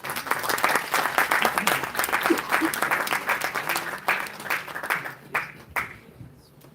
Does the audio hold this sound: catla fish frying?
no